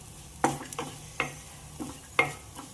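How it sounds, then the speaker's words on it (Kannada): Raw mango, spices and other ingredients for mango masala chitranna are stir-fried in a pan over low heat, with several sharp scraping stirs over a soft, steady sizzle, close and clear. "ಇದೆಲ್ಲ ಸಾಫ್ಟ್ ಆಗುವವರೆಗೆ ನಾವು ಸಣ್ಣ ಉರಿಯಲ್ಲಿ ಹುರ್ಕೋಬೇಕು"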